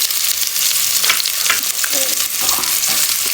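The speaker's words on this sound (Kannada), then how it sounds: "ಈರುಳ್ಳಿ ಗೋಲ್ಡನ್ ಕಲರ್ ಬರೋವರೆಗೂ ಇದನ್ನು ಚೆನ್ನಾಗಿ ಫ್ರೈ ಮಾಡ್ಕೋಬೇಕು" Onions frying in a pan toward golden for egg biryani, a loud, close, continuous crackling sizzle with rough scraping as they are stirred.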